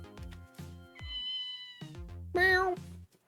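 A cat meows in the Ghost Trick video game: a couple of clear, close, loud meows separated by soft musical tones, with no talking.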